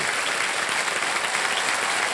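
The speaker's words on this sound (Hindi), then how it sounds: "आज दी ऑडियंस लाइफलाइन को एक बार फिर से जीवित कर दिया जाए और तालियां बज जाए।" Dense, steady studio audience applause on a televised Hindi quiz show, a continuous wash of many hands clapping at even loudness with no talk over it.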